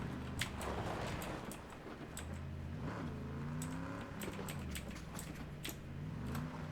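A Hellcat police car in a video game revs its engine, the pitch rising and falling in several drawn-out surges at moderate volume, with scattered clicks over the top.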